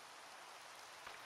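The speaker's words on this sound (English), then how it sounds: "Aw, there goes the rain." Steady rain in a video game, a soft, even hiss of falling drops that carries through the whole moment at low volume, with a small bump near the end.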